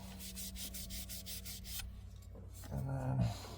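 Wood being sanded by hand in a cramped attic: a steady rhythmic rasping of strokes at close range over a constant background hum, ending with a brief louder scuffing bump.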